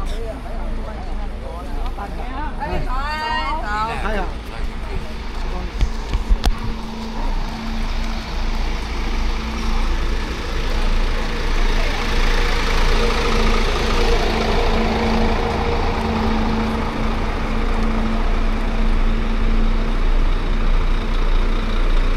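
A bus engine idling with a steady low rumble that holds for the whole stretch. A brief burst of other noise comes early on, and a faint hum sits on top of the engine.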